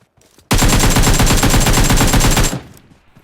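Rapid automatic gunfire in PUBG Mobile, a loud sustained burst of about two seconds with dense repeated shots, then a short fading tail. No talking.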